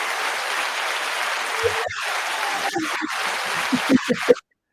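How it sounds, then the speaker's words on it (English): An audience gives a warm, steady round of applause for the guest Xiomara Escobar, continuous and moderately loud before it cuts off abruptly at the end, with a few voices faintly under it. "You didn't know you were getting applause, did you?"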